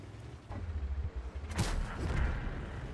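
A heavy tank gun fires once in World of Tanks, a loud boom with a rumbling tail, set against engine drone and battle noise.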